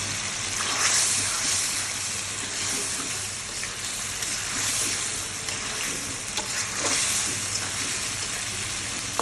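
Eggs hit hot oil and fried spice paste, giving a steady loud sizzle and crackle that carries on throughout with small pops, with no voices over it.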